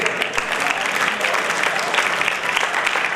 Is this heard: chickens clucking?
no